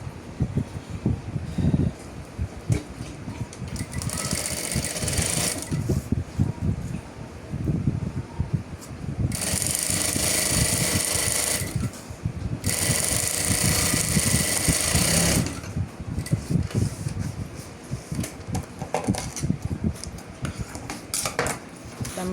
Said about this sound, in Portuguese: E vamos passar uma costura bem aqui.